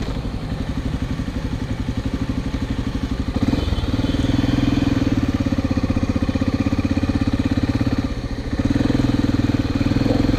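A motorcycle engine turns over and catches, then settles into a steady, rhythmic idle with a brief dip before picking back up, loud and close, at night in Conakry.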